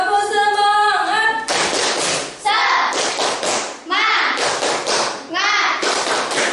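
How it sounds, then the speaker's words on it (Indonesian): A school class performs a rhythmic spirit clap, sharp hand claps in quick patterned bursts mixed with children's chanting voices, loud and close in a classroom. "oke, tepuk semangat."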